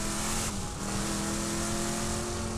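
Car engine revving during a power drift in the video game Borderlands 2, a continuous engine drone with faint tire noise, steady and moderately quiet, with no talking.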